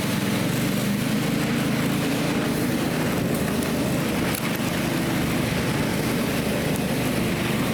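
A snowmobile's engine roars steadily and loudly close by as it rides over March snow toward a steep hill and a bog, with a constant droning rumble throughout.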